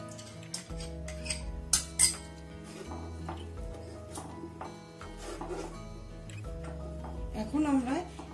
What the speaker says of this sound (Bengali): এখন আমরা এটাকে আস্তে আস্তে করে ঘোরাতে থাকব, হিটটা কম করে, যাতে কোনো লাম্পস না থাকে।